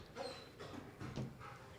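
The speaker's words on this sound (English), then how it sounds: "there's 2 dogs in here. There's so many dogs." Dogs in a room give faint, brief yips and whimpery barks, a few scattered short calls at low level with soft room noise between them.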